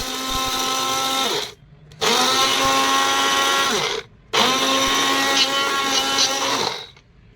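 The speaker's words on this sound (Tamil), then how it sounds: "நம்ம மிக்ஸி ஜாரில் போட்டுக்கலாங்க." A loud electric mixer grinder whirs steadily in three long bursts while grinding drumstick leaves, stopping briefly between each run, close and harsh.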